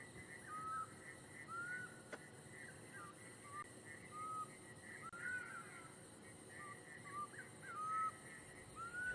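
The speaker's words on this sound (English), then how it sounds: "that's the black cuckoo that we can hear" A black cuckoo repeatedly gives short, clear whistled calls at intervals, moderately distant over quiet ambient background at sunset on a safari drive.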